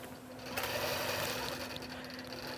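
Computerized quilting machine stitching a quilt, a steady close mechanical whir with a constant hum that rises slightly in level after the start and runs unbroken, no voices.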